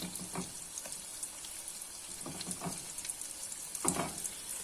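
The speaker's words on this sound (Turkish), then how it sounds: "biraz kavrulmasını bekleyeceğim soğanların" Chopped onions sautéing in a pan, a soft steady sizzle with occasional light stirring scrapes and crackles, fairly quiet and close.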